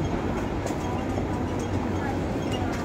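Hong Kong tram at Kennedy Town, a continuous loud rumbling roll of wheels on rails with steady noise throughout, nearby.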